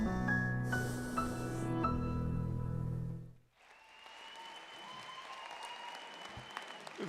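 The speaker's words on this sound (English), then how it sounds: "Round of applause for the Perseverance Award" At a football foundation's national awards dinner, music plays before a brief pause, then a moderately distant audience breaks into steady, sustained applause in a large banquet hall.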